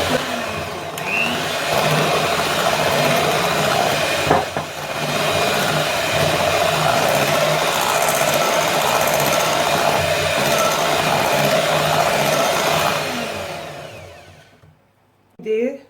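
Electric mixer whisking carrot cake batter, a loud, steady whirring drone holding for about fourteen seconds with a brief bump in the middle, then cutting off to near silence, with a speaking voice faintly underneath.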